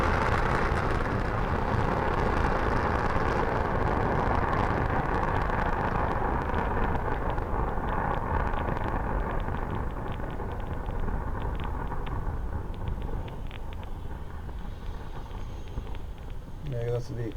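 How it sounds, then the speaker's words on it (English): Falcon 9 rocket lifting off through fog from Vandenberg Air Force Base on a Radarsat mission: a steady, broad distant roar that holds for the whole stretch and fades slightly toward the end, with a voice talking over it. "Falcon 9 had an on-time liftoff through the fog signal, from Vandenberg Air Force Base"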